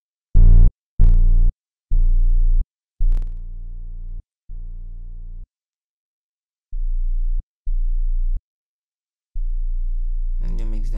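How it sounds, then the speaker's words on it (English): A series of short, buzzy synth tones through FL Studio's Fruity Fast Dist plugin, some saturated and gritty, played in separate bursts with brief silences between them, ending on a longer sustained note. "let's use the fruity fast distortion."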